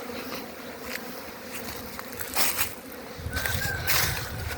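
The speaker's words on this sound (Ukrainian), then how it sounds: "Пчолки літають." Honey bees fly around apiary hives on a mild winter day at about +10 in the shade, a steady soft buzz of many insects throughout, swelling a little in the second half, with a faint whistle-like tone and no talk.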